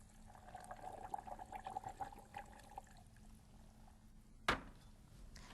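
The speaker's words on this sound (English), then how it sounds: "Now we have the 4 cups of water." Four cups of water poured into a blender with spinach, avocado, olive oil, apple, tomatoes and seasonings for soup: a soft trickling pour for a few seconds, then a single sharp clunk, faint and close.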